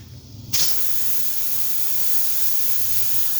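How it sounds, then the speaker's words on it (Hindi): A pressure cooker, with chicken legs inside, releasing steam after its weight is lifted off: a sudden loud, steady hiss starts abruptly and continues without a break. "तो अब वेट हटा लेते हैं हम ताकि जो गैस है वो निकल जाए।"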